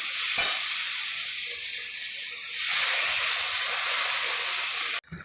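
Water hits hot, oil-fried spices for a cauliflower and potato curry, setting off a loud, sustained hiss and sizzle that settles slightly before cutting off abruptly near the end.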